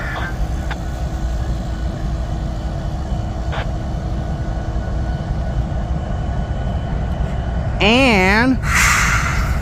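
Union Pacific locomotive 7646 rolls past in St Paul, Minnesota, with a loud, continuous rumble close by. A wavering tone rises near the end, and a voice can be heard.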